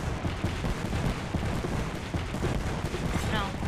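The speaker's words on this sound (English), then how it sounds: "Stand back, knuckle clusters firing." A knuckle cluster weapon fires in Apex Legends, producing a dense, sustained clatter of overlapping blasts and crackles; a voice speaks faintly underneath.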